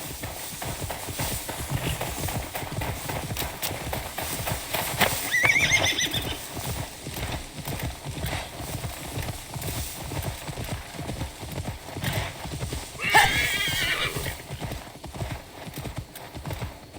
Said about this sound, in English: Now to deliver Magni his horse.